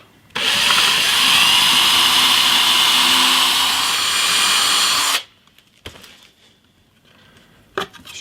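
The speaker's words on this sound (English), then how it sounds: "I'm going to drill a 3mm pilot hole because I don't want the screws to bind too much" A power drill bores a 3mm pilot hole into guitar body wood, a steady high whine running about five seconds close up, then stopping abruptly and leaving faint handling clicks.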